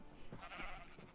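A Minecraft sheep bleats in a hardcore survival world: one moderately loud, wavering baa that rises and fades over about a second, with no voices.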